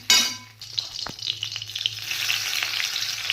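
Chopped ginger, green chilli and garlic hit hot oil for egg chow mein with a sharp burst of sizzle, then a continuous close frying hiss broken by a few spatula scrapes.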